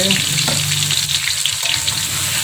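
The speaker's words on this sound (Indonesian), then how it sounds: "di sini saya panaskan minyak sayur, lalu kita tumis bahan bumbu yang kita blender tadi ya" Blended spice paste stir-fried in hot vegetable oil for chicken gulai gives a steady, close sizzle and crackle throughout, with a faint scraping of stirring.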